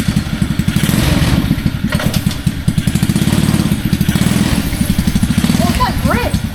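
A go-kart on duct tape tires pulls away with a loud, close, steadily chugging small engine that runs throughout with a rapid even pulse, while voices speak over it near the end.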